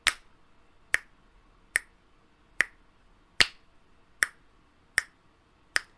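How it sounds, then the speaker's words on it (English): Eight sharp metronome clicks tick at a steady, moderate pace, close and crisp, the first of every four accented, the fifth noticeably louder than the rest. "if I accent the first click of every 4 like this"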